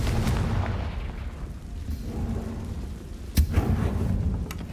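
A Confringo fire spell bursts in the Hogwarts Legacy video game inside a haunted shop, a sharp thudding blast with a brief follow-up crack about midway, set against a low steady rumbling game ambience with no talking.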